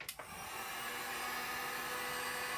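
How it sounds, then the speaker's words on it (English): A handheld hair dryer drying gold paint on a fabric Christmas tree pillowcase cover, switching on with a brief click and then blowing as a steady, loud, close whooshing roar with no talk. "So now I'm going to hit it with my dryer just for a second"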